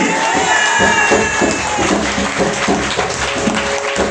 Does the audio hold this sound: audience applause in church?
yes